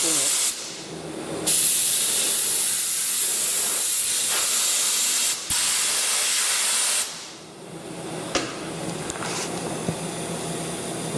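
Compressed air hissing in long loud blasts as it blows coolant off freshly machined stock in a CNC milling machine, with a few short gaps and bursts between the sustained jets.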